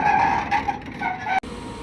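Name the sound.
loud truck noise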